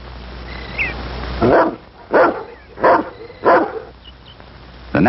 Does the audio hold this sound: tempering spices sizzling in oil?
no